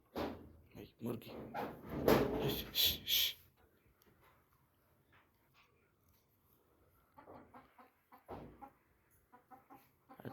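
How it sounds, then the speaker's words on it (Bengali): A chicken clucks close by in quick bursts at first, then quieter scattered clucks follow after a pause, with people talking around it. "এই মুরগি"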